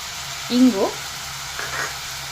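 Raw banana pieces tipped into browned onions and stirred in a pan, giving two short bursts of scraping and sizzling over a steady low hiss of frying.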